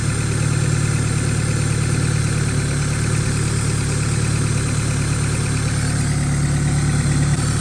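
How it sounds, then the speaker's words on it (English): A car engine idles steadily with a constant low hum, its revs shifting slightly as alternator power is connected; no talking. "When we plug the power in, you can hear the engine change RPM."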